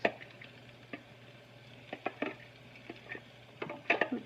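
Thinly sliced garlic sautéing in a pan, giving a soft, quiet sizzle with scattered light clicks and stirring taps, close by and without talk.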